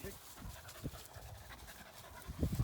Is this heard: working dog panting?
yes